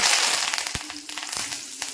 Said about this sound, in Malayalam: നമ്മുടെ കടുവും മൂത്തതിലേക്ക് കറിവേപ്പില